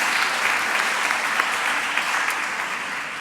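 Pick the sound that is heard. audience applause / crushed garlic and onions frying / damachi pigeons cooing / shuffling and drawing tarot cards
audience applause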